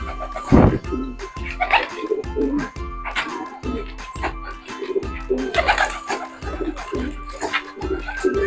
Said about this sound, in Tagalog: makikita nyo dito tayo sa ating backyard. Mga kalapati natin.